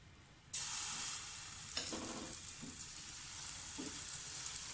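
Oil sizzles in a hot pan as wheat pancake batter with egg and vegetables goes in: an abrupt loud hiss breaks in after a quiet start, then settles into steady crackling frying with a few soft stirring knocks.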